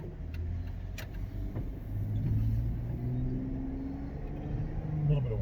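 Road traffic passing a car driving through rainy streets in Pigeon Forge, a low steady engine and tire rumble with a faint swell as vehicles go by, no voices.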